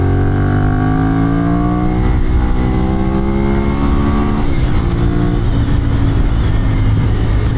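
A Ducati Monster 796 roadster engine drones loudly and steadily while riding, its pitch shifting through rising and falling revs with constant wind rush close to the microphone.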